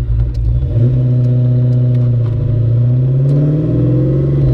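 A 1991 Ford Mustang's engine drones loudly and steadily on a country road, its pitch rising as the car accelerates, heard close up without talk.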